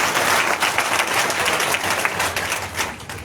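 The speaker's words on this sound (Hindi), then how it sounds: "जोरदार तालियां एक बार।" A crowd of farmers and laborers at a protest outside a district secretariat applauds, a loud, dense wash of clapping sustained throughout with no break.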